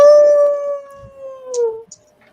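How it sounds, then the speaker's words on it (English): A single drawn-out coyote howl echoes through a forest at night, a clear sustained wavering tone that slides downward and trails off, with a couple of faint yips near the end. "you do hear echoing through the forest a howl"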